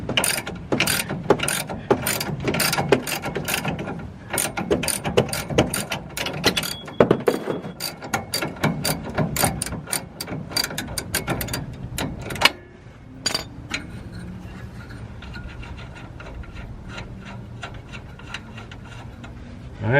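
Ratchet wrench backing off air ride four link bushing bolts, a fast, close series of clicking pawl strokes for most of the stretch, then a quieter rubbing and metallic handling sound.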